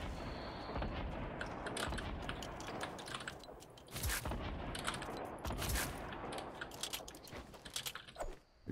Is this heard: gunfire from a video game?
yes